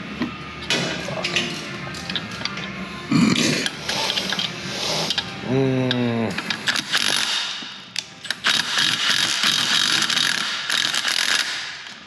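Mechanical ratcheting and metallic clicks from wrench work on a car's rear end, with bursts of tool clatter and workshop knocks throughout, fairly close and steady in loudness.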